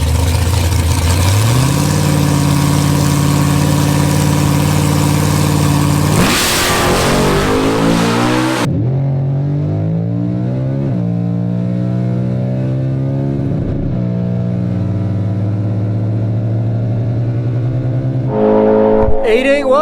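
Stock Camaro roaring hard down a quarter-mile drag strip, the engine note climbing through several gear changes at very high volume, then easing off and winding down as the car slows.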